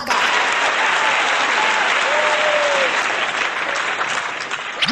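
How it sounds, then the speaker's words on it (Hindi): A school function audience claps loudly and steadily to welcome a Class 7 student poet on stage, a dense, continuous wash of applause throughout. "तो जोरदार तालियों के साथ स्वागत कीजिए बबलू शायरबाज का।"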